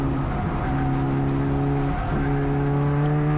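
A Mitsubishi Evolution race car on the Thunder Hill East track accelerates with a loud, steady engine drone heard from inside the car, and its pitch dips briefly partway through as it shifts.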